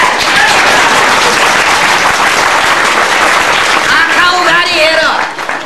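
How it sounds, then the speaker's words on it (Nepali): Loud, sustained audience applause fills a hall after a spiritual discourse, steady dense clapping throughout, with a voice briefly rising over it near the end. "यहाँ खुब जोडले ताली बज्दैछ"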